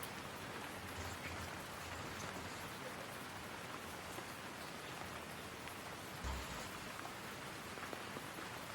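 Steady rain patters down on soaked Silkie chickens outdoors in Sydney, a dense, even hiss of drops on surfaces that continues without a break, with a brief thump partway through.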